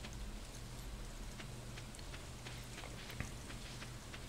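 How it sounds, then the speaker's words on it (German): Steady, soft rain falling in the video game Stardew Valley, a continuous hiss with scattered light droplet ticks throughout and no speech. "jetzt regnet es den ganzen Tag."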